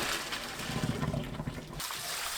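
Blanched young radish greens being rinsed in cold water, with quiet splashing and trickling of water in a bowl or under a tap, close and soft, briefly continuous before stopping.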